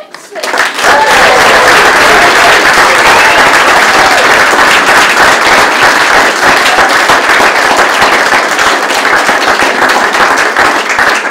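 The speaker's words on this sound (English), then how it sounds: "Perhaps if we can have one large round of applause and cheer, the new Mr. and Mrs. Jackson." Wedding guests giving a big round of applause and cheers for the newlyweds, dense continuous clapping that swells quickly and stays loud and close for about ten seconds.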